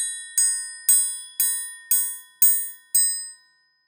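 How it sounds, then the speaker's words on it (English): A metal triangle struck six times in an even rhythm with a metal beater, each bright ringing strike decaying before the next, close and clear with nothing else heard. "It's a triangle."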